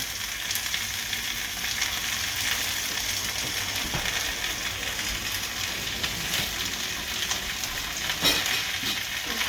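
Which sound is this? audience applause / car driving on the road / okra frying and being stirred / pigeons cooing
okra frying and being stirred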